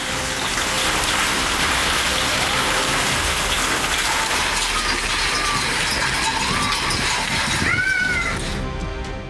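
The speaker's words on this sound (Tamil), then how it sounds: "ஆங்காங்கே ஆலங்கட்டி மழை பெய்ததால்" Heavy hail mixed with rain falls in Tiruppur, Tamil Nadu, a dense continuous hiss and patter of drops and stones on surfaces that stays loud throughout, with a brief high-pitched squeal near the end.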